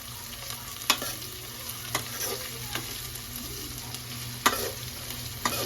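Onion with green chillies fries in a pan, a soft continuous sizzle under a low steady hum, with occasional sharp taps of a spatula stirring against the pan.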